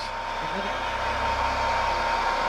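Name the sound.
hair dryer blowing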